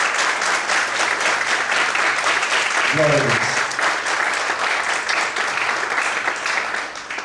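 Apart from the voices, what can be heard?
congregation applauding in church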